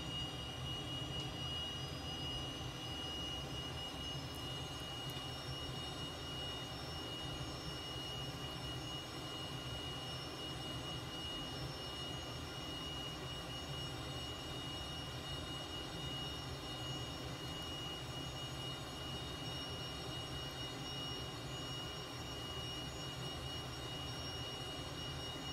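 Steady jet engine roar of a Cessna T-37B trainer in a flight simulator, continuous and constant in level throughout, with no voices over it.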